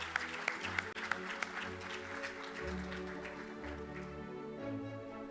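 Audience at an amputee football World Cup draw ceremony clapping along steadily with loud music, sharp claps over a sustained bass-heavy backing, no talk.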